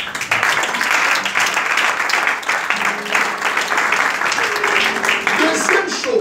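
A church congregation applauds to acclaim the Lord during a worship service, with steady, dense clapping running the whole time, mixed with voices and some tonal background sound.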